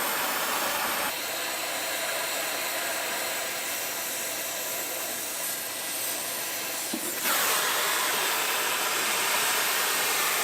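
A torch flame played on a rusted bolt on the frame of a 1972 Corvette, a steady roaring hiss that starts after a second, runs continuously and grows a little louder near the end, close and with no talking.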